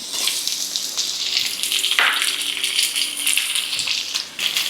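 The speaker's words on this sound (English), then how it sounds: "So now we're gonna add in our garlic. And our onion." Garlic and onion hit hot oil in a wok for pancit bihon guisado, a loud close sizzle that flares sharply as they go in, then crackles steadily.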